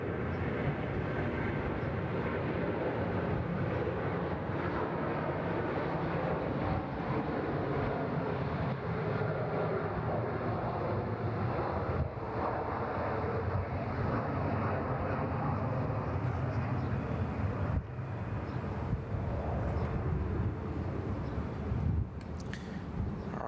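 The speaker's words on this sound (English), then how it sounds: "Love listening to those departures as well with the beautiful Rolls-Royce engines." An airliner with Rolls-Royce engines departs Bangkok Suvarnabhumi Airport, a sustained, distant jet roar that holds steady and dense throughout.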